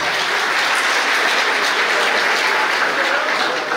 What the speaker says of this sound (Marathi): जोरदार टाळ्या वाजवले मित्रांनो